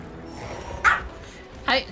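Two quick barks from a dog named Coffee, close and loud, spaced about a second apart against low indoor background noise.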